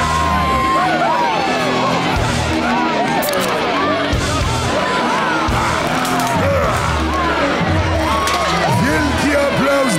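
A dense crowd cheers, whoops and yells in an ongoing roar for the hottest villain at a superhero event, loud and continuous throughout with scattered shouts rising above the babble.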